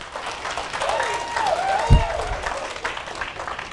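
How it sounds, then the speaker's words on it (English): An MBA session audience gives a round of applause, a steady wash of clapping heard while a voice talks over it. "Give me a round of applause. SRM applause."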